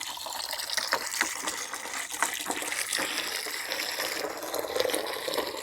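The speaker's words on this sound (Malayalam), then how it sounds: "പാൽ ഒഴിക്കണം" Milk being poured into water to make a farm fertilizer, a continuous gushing, splashing pour that stays steady and close for several seconds without voices.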